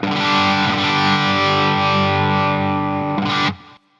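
An electric guitar played through a Line 6 Helix high gain distortion snapshot, a thick sustained saturated chord ringing loud and alone, then a quick restrike before it cuts off abruptly.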